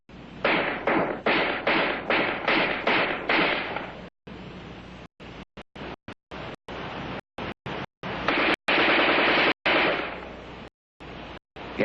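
Armalite AR-10 rifle firing offhand at combat range, a quick string of sharp loud shots in rhythm, then scattered single and paired cracks separated by silences.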